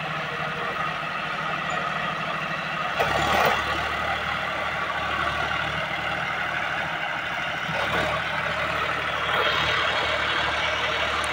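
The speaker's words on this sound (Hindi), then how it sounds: "देख सकते हो हमारे सामने चल रहा है जो अपना ट्रैक्टर जॉन डियर का 50-50 G रोटावेटर चला रहा है खेत पे" A John Deere 5050 tractor pulling a rotavator across a farm field, preparing soil for potato planting, gives a steady, continuous engine drone with a low rumble that stays close and even throughout, with brief surges in intensity.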